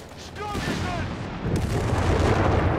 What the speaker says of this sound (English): 6-pounder gun here from Momo in response here to the Sturmgeschütz arriving there